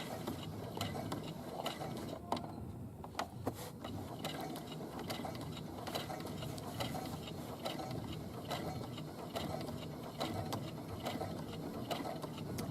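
A domestic sewing machine topstitches a trouser fly, its needle mechanism running in a steady, continuous mechanical rattle and whir for the whole stretch, close and unbroken, with no talking.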